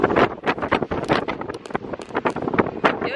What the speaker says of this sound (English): It's really, really windy again.